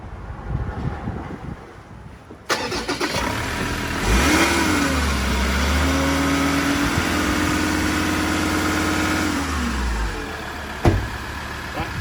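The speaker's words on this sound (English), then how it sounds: "Gave it a little bit of a rev just to try and get a little bit of heat there." A Ford Ranger with an upgraded Harrop intercooler starts up, then its engine revs and holds a raised pitch for several seconds before dropping back to idle, loud and close throughout.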